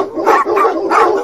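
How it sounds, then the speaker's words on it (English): A puppy in a children's show lets out a quick, loud run of three close barks in a little over a second. "Just look how happy they are. Bark, bark, bark, bark."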